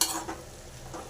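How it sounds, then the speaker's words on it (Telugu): Garlic stirred in a hot pan, a short burst of frying hiss and scraping that is loudest at the start and then settles into a steady sizzle. "వేసుకున్న తర్వాత వెల్లుల్లి ఇప్పుడు బాగా కలుపుకోవాలి."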